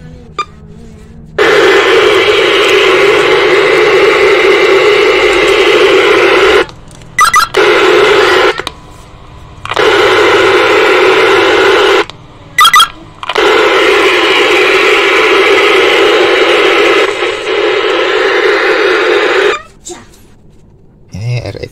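A used ex-taxi TAIT 2000 UHF low-band radio rig gives off a loud, steady hiss of static that cuts out abruptly several times and resumes, with short gaps of silence between bursts and no talk over it.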